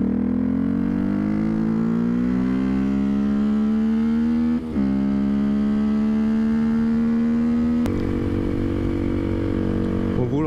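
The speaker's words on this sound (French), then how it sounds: "le bruit de la moto a un peu changé" Motorcycle with a modified exhaust rumbles and slowly rises in pitch as it revs steadily for about ten seconds, loud and close, with a brief dip partway through and a faint voice underneath.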